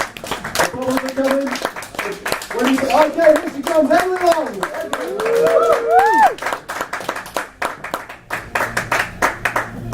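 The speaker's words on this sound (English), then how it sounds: "Let's start the clapping" A stand-up comedy audience claps and cheers as a comedian takes the stage, with applause running throughout and a voice introducing her over it.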